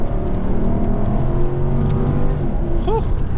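A neglected cheap Jaguar's engine pulls hard under full throttle, its rising drone climbing steadily and close, with a brief squeal-like sweep near the end.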